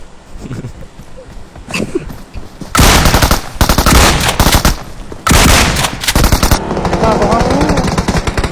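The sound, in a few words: gunfire in a shooting video game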